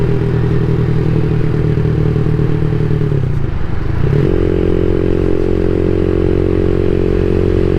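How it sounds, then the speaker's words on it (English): A CSC SG250 motorcycle fitted with a louder MotoCult Stage 4 exhaust is ridden close by, its engine droning loud and steady. Near the middle the note dips briefly, as in a gear change, then settles at a higher, smoother pitch. "The exhaust is definitely a bit louder."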